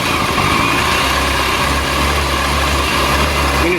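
A 1994 Yamaha FZR600 motorcycle engine idles with its choke in use, a loud, steady, close-up burble and hum that holds evenly throughout without revving.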